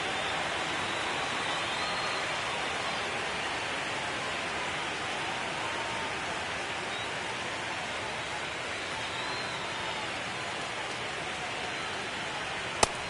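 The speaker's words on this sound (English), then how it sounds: "the field's not going to be able to hold up if the rain gets any worse than this" Steady rain pours on the field in the MLB The Show 26 baseball video game, a continuous even hiss that stays loud and unbroken throughout, with a single sharp click near the end.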